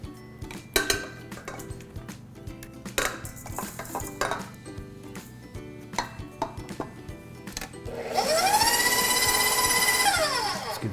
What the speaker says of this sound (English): combine the butter with the sugars, beat that till it mixes in